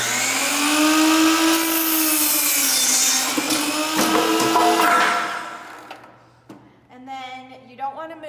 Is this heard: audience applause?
no